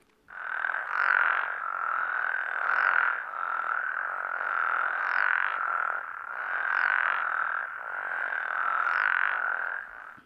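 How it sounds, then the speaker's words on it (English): Healthy toad and frog chorus from the Mono Lake area east of Yosemite, California: a dense, continuous mass of overlapping croaks and trills with steady rhythmic pulses, moderately loud and sustained throughout with no talking. "this is a spectrogram of what the frog chorusing looks like when it's in a very healthy pattern."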